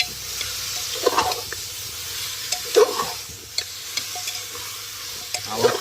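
Chicken with turmeric, garlic paste and coriander is stirred in a pot over a wood-fired stove, with a steady sizzle under occasional scraping strokes of the spoon. No one speaks.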